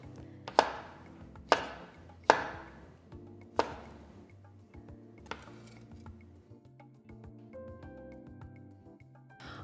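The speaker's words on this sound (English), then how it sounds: "And we're just gonna slice these up." A knife slices through pasta salad ingredients on a cutting board, giving a handful of sharp, separate chops spaced about a second apart, close and clear against a quiet room.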